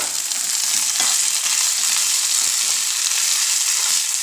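Cut capsicum pieces sizzle in a hot frying pan with green peas, a steady, loud, continuous hiss with small crackles, close by and with no voices.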